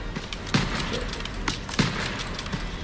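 Continuous gunfire in the video game Call of Duty: World War II, a few sharp shots and bursts at moderate distance over a steady background hum, fairly quiet overall.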